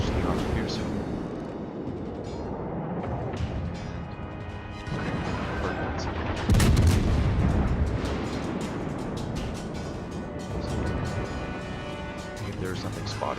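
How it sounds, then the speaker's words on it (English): Warship guns firing high-explosive shells in World of Warships, heavy booming blasts and crashes, one especially loud near the middle, set against a steady rumbling background with a voice talking over it. "Shots out, high explosive, does damage."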